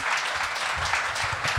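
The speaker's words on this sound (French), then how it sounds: "on peut lui refaire un tonnerre d'applaudissements" An audience at a French tech talk on bug bounty programs gives a short, full round of applause after a presentation, close and steady from start to finish.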